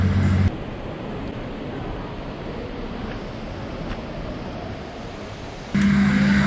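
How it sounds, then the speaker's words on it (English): A large indoor waterfall inside the Cloud Forest dome in Singapore roars as a steady, even rush of falling water, with louder bursts of other sound at the start and end and no talking. "The refreshing waterfall"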